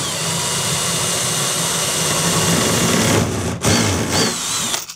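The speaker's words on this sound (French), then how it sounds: "je vais percer très gentiment en essayant de me mettre dans l'axe" A power drill bores slowly and gently into a wooden bed panel for a storage bed frame, a steady close whine running continuously, then briefly stuttering and dipping near the end as the bit bites through.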